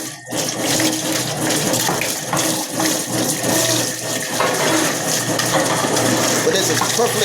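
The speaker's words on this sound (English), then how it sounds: "it's cycling itself to make sure there's no air in the line" A commercial fryer's oil filter pump cycling with new filter paper, pushing the air out of the line: a loud, continuous gurgling rush of liquid with churning and splashing.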